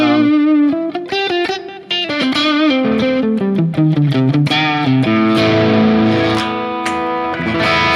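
Overdriven electric guitar through a Sonicake Matribox 2 Pro on the bridge humbucker pickup, with a crunchy, gritty tone, plays a loud riff that mixes chords and single notes, with no voices.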